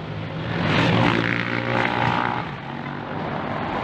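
Air rushing out of a motorcycle tire with the valve opened, a steady loud hiss with a low engine-like hum underneath, swelling in the first second and then continuing unbroken.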